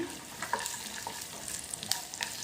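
Sesame seeds fry with chopped amaranth leaves in a pan, a soft continuous sizzle broken by small crackles and light stirring clicks, close but fairly quiet.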